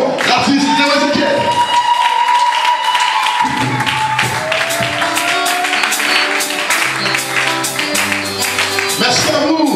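Audience at a live concert acclaiming an artist with loud sustained applause and cheering, crowd noise filling the whole stretch alongside ringing music and voices.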